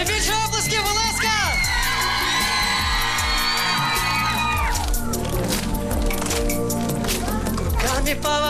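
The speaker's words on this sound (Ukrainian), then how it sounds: "Ще більше оплесків, будь ласка!" Karaoke crowd in an open-air square applauding and cheering, with dense clapping and whoops layered over loud backing music throughout.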